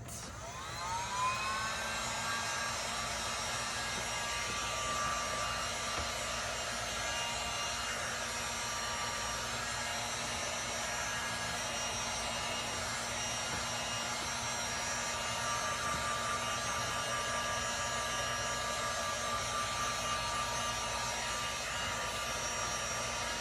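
A hair dryer blows steadily on a painted metal over-cabinet towel holder, a continuous close whine and rushing air with a constant pitch held for over twenty seconds, no talking.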